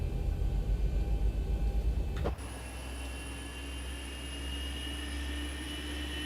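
Boeing 737-800 jet engine spooling up in the X-Plane 12 flight simulator; a steady turbine roar with rising whines takes over from a pulsing hum partway through, sustained and close.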